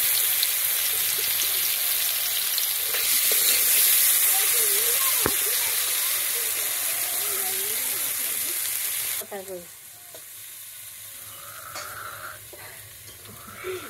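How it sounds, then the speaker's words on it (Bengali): Eggplant (brinjal) slices frying in hot oil give a loud, steady crackling sizzle that drops sharply in volume partway through and continues more quietly, while someone speaks over it. "একটু তেল দিয়ে দিলাম আমি ভাজি করবো বেগুন একটু বেগুন ছেড়ে দিলাম"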